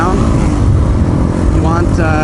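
A motorcycle engine revving loud and close during gear shifts, its pitch dropping and then climbing again toward the end, a continuous mechanical roar.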